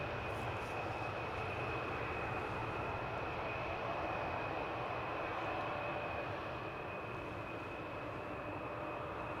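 An Embraer E2 airliner's engine on the ground at Amsterdam Schiphol Airport gives a constant loud rumble with a thin, steady whine on top, unchanging for the whole stretch.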